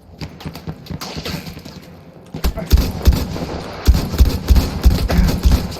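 Bursts of gunfire in a shooting video game, close and loud, with rapid rattling volleys and thumping shots that grow denser in the second half.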